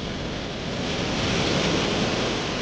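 Strong waves pounding at Manila Bay near the Dolomite Beach area, a steady, loud wash of surf noise mixed with wind buffeting the microphone throughout.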